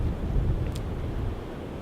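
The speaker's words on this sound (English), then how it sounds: "It's pretty windy, which is making the cool air even colder." Wind gusting on a cold day outdoors at a camping spot, a steady low rumble buffeting the microphone with no voices.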